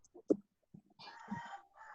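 A chicken calls with a few soft clucks, then a longer, drawn-out crowing call, faint and slightly distant.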